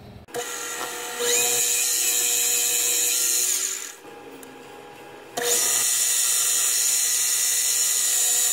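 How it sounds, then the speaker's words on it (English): High, whining rotary tool polishing the inside of a brass flywheel pattern with red rouge, running loud and close, dipping to a softer tone for a second or so before resuming at full pitch. "I'm just going to be polishing"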